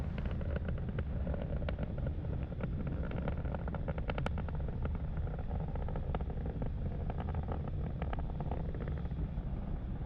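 A SpaceX Falcon 9 rocket climbing at supersonic speed on a launch carrying an Indonesian communications satellite gives a steady, dense, broadband roar that stays loud and unbroken throughout, with no voices.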